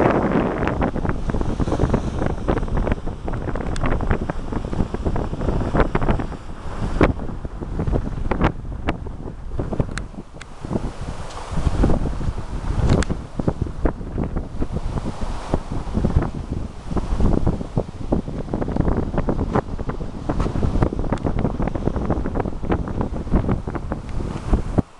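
Strong wind buffets the microphone over a constant roar of ocean surf at a resort shore, rumbling and gusting steadily throughout with no voices.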